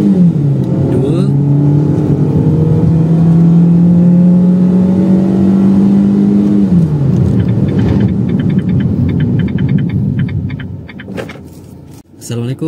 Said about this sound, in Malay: Saya cuba try 0 to 100 sekarang. Aircon tutup, full throttle.